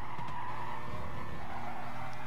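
Race car sliding as the rear loses grip through a chicane in Gran Turismo Sport on worn tyres, a steady tyre skid and engine drone held loud and close for a couple of seconds.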